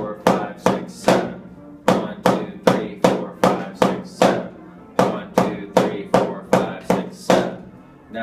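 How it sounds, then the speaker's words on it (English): A drummer plays a seven-stroke roll rudiment as close, crisp, sharp strokes in steady repeated groups. Each bright hit decays quickly, with short pauses between the groupings. "The next one is a 7-stroke roll. It's the same exact idea, but you're gonna count to 7."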